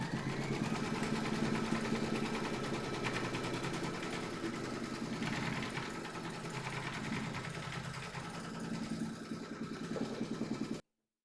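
A home embroidery machine stitches a hooped Halloween kitty appliqué design, a steady rapid mechanical needle chatter and motor whir running unbroken for about ten seconds, then stopping abruptly.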